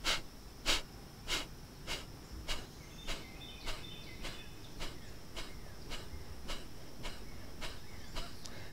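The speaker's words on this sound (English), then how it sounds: "We'll do 3 rounds, about 10 to 15 breaths per round." Rhythmic yoga breathwork: a steady series of about a dozen sharp, evenly spaced breaths, each a brief hissing burst through the nose or mouth, close and moderately loud, with no talking.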